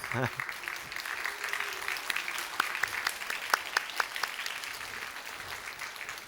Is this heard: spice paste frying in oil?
no